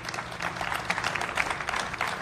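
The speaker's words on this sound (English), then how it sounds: "I want to give our chairman, Leroy J. Jones Jr., a round of applause" A crowd at a transit station announcement at Brick Church claps for the chairman, with dense, steady applause that carries on evenly throughout.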